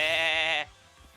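A human voice imitating a sheep's bleat for the Pokémon Wooloo, one sustained, wavering nasal bah held for about half a second and then cut off abruptly.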